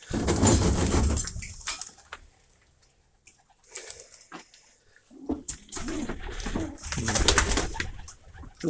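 Pigeons coo in soft, throaty bursts, with a loud stretch at the start and again near the end, separated by quieter gaps with scattered rustling.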